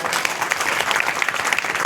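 A crowd applauds a winning local candidate at a cultural program opening during a Durga fair, with a brief burst of dense, close clapping that stays constant and has no speech over it.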